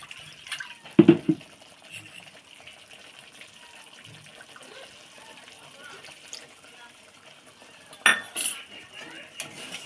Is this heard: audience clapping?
no